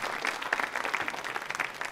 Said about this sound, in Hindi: तालियां बजाइए कोठारी साहब के लिए और मिसेस कोठारी के लिए जोरदार तरीके से